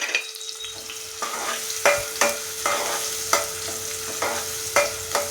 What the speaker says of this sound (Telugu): నూనె కాగిందండి. 2 ఉల్లిపాయలు, 3 పచ్చిమిర్చి